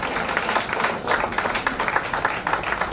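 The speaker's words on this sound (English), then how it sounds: "Give a very big clap once again to welcome our guests." An audience at a college annual function claps in a steady, dense patter of many hands, fairly close and continuous, with a faint voice now and then underneath.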